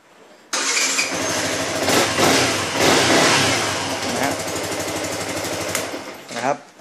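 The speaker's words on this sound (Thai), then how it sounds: "เราปลดล็อกเราสตาร์ทปกติ" A Yamaha R15 motorcycle fitted with an alarm starts up after being unlocked, its engine catching sharply and then running loud and close with a busy, buzzing idle before a brief rev at the end.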